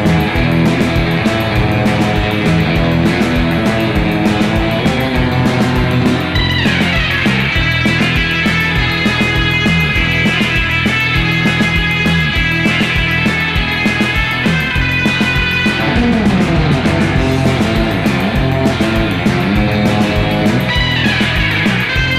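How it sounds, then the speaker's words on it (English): Guitar played through a TAD spring reverb can with two long springs and long decay, a dense, continuous wash of ringing chords with a lush splashy tail that never drops out. "The first reverb can has two long springs and long decay."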